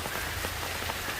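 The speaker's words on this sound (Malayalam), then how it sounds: "വൈകുന്നേരം ആയപ്പോൾ മഴ" Evening rain falls steadily on surfaces, a dense, continuous patter and hiss, fairly close and even throughout, with no voices.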